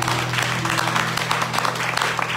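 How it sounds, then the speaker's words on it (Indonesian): A church congregation at a Christmas service claps together in a dense, even burst that lasts a couple of seconds over a steady low hum. "Yang setuju tepuk tangan bagi Allah kita."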